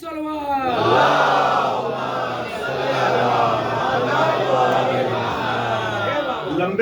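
A large crowd at a religious majlis recites salawat loudly in unison, a sustained rolling chant of many voices that swells and holds for several seconds before fading.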